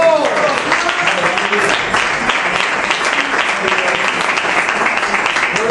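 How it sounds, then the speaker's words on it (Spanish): A church congregation applauding the Lord during a sermon, a loud, continuous clatter of clapping mixed with voices calling out over it. "Para aplaudir al Señor"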